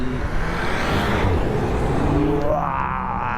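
A car speeds past at Marseille's Old Port with a loud, rushing engine roar that swells and then fades as it moves away, over steady street noise.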